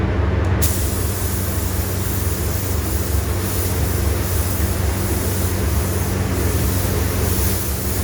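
Spray gun laying a mid coat of paint on Harley CVO motorcycle parts during a color change, a steady continuous hiss of atomized air that runs unbroken and loud with no talking.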